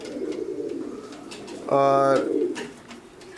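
A female Madrasi pigeon gives a brief, fairly loud coo near the middle, with someone talking before and after it.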